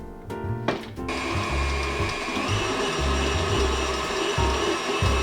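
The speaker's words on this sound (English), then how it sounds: "I'm going to add this into my butter and cream it for 3 or 4 minutes until it's super light and fluffy" An electric mixer creams butter with granulated and brown sugar, running as a steady loud whir with rhythmic grinding and rattling in the bowl after a few brief knocks at the start.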